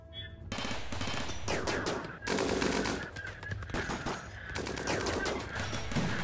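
Rapid bursts of gunfire from a RimWorld battle crackle in dense volleys, loud and close, with short pauses between clusters of shots.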